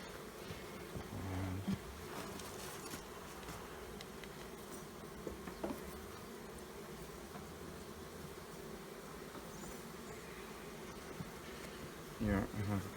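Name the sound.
honey bees buzzing at opened beehive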